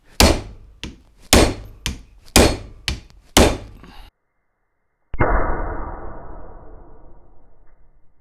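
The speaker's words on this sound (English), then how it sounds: "I'm going to give this a little bit of a hit and see if I can feel anything here." A 3-pound maul strikes a Vessel Impacta JIS impact driver, six loud sharp metallic whacks in quick steady rhythm, then a pause and a heavier clunk with a ringing, fading tail.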